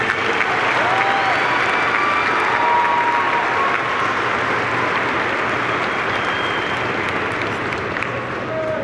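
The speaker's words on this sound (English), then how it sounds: "join me in a round of applause to show the appreciation for all of your friends and family who are here today" A large graduation audience at a high school ceremony applauds in a dense, steady roar of clapping that keeps up throughout, with scattered faint whistles and voices mixed in.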